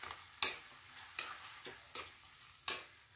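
Paneer chilli with tomato ketchup sauce stirred in a pan, four evenly spaced sharp scrapes of a spoon against the metal over a faint sizzle, close and quiet.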